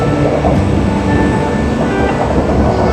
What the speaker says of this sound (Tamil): இதுதான் ஆக்சுவலாக ட்ராம்.